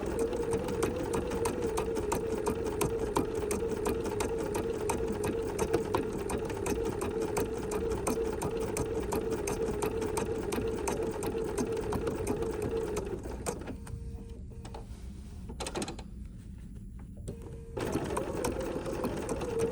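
A sewing machine stitching a quilted poinsettia trivet runs with a steady close mechanical whir and rapid needle clatter, stopping briefly twice near the end before starting up again, with no talking.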